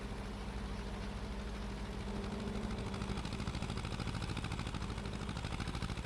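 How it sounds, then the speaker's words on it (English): A tractor engine labours steadily under load while climbing a slope in a field, a continuous loud low rumble with a rising, rougher drone toward the end and no talking. "Come on, tractor."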